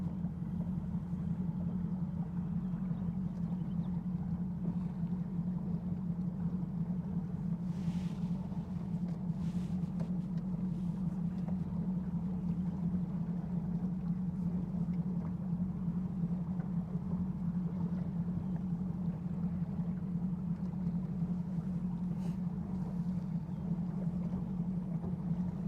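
A motorboat cruising through the shallows on Lake Guntersville, a steady low engine drone with constant wind and water rush running throughout, moderately loud and unbroken.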